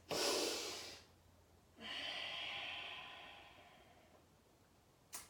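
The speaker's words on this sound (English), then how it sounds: "Take about 5 deep breaths here." Deep breathing during a yoga strength flow, two slow breaths, a long close exhale then a softer lengthy one, followed by a brief sharp intake at the end in a quiet room.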